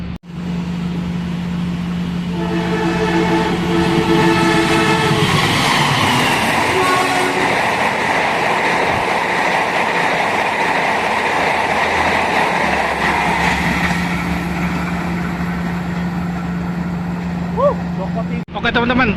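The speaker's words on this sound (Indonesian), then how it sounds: "Yaitu tadi kita disusul oleh kereta api Joko Tingkir teman-teman." Jaka Tingkir passenger train rushing past Wojo station at speed, a loud sustained roar with rhythmic wheel clatter and a steady horn-like tone, while a person speaks over it.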